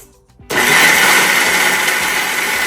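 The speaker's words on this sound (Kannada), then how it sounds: "ಈಗ ಜಾರಿಗೆ ಹಾಕಿದ್ದೀನಿ ಮಿಕ್ಸಿ ಮಾಡ್ಕೊಳ್ಳೋಣ ಫೈನ್ ಪೇಸ್ಟ್ ಮಾಡ್ಕೊಬೇಕು" A mixer grinder whirs loudly as it blends cooled horse gram masala into a fine paste, the motor starting abruptly after a quiet moment and running at a steady, high-pitched roar to the end.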